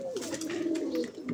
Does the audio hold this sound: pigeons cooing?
yes